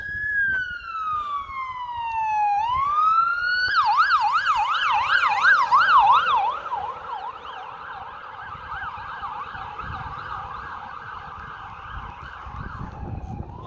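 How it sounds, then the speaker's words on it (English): A loud siren sweeps downward, then switches to a rapid warbling wail that continues steadily, close by and dominating the scene without any talk. "Okay, here comes the ambulance."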